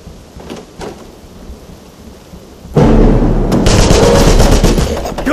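Gunfire in the Wolfenstein video game comes as a sudden loud rattling burst of shots that continues steadily after a quieter opening with faint scattered sounds.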